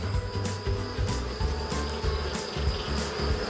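Black honeybees swarm and buzz densely around an open hive during a colony inspection, a continuous close, steady drone with no talk over it.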